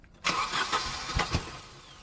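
A car engine cranks repeatedly without catching, several rhythmic starter bursts in quick succession, close and fairly loud after a brief quiet start.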